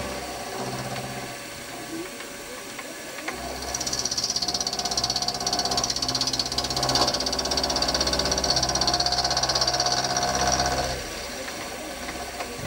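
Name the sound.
lathe cutter machining a Stuart S50 engine eccentric strap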